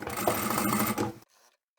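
A sewing machine stitches down a folded fabric edge on a hanging shoe rack, giving a steady, close, rapid mechanical whir for about a second before stopping abruptly, with faint handling noise after.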